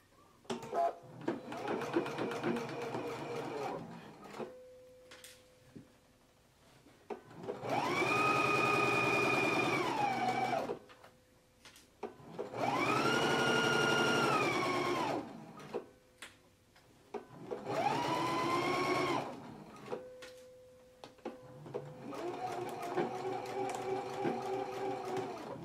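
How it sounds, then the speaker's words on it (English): A sewing machine stitches a pleat on a dress sleeve in several bursts of rapid, buzzing stitching lasting a few seconds each, with quiet handling and clicks between runs, close and clear. "let's go ahead and do this stitching now on our sleeve"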